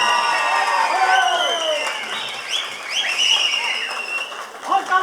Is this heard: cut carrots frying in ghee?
no